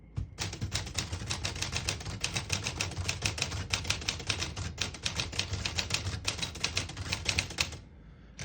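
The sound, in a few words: vintage portable typewriter typing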